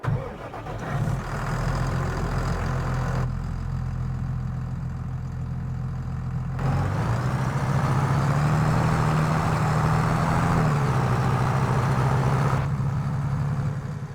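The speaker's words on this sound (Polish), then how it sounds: "Tyle lat czekania, żeby te ciągniki tu zobaczyć, tak więc posłuchajmy sobie, jak to brzmi" A tractor engine in the video game Farming Simulator 22 turns over and settles into a steady droning idle, then revs up to a stronger hum before easing back down; no talking.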